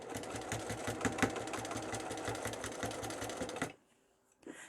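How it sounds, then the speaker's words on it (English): Sewing machine stitching fabric along a zipper edge while making a zippered pouch: a fast, close, even mechanical whir of needle strokes for several seconds, then stopping abruptly, followed by a faint click. "sew around, keeping that fabric up against the edge of the zipper, like so"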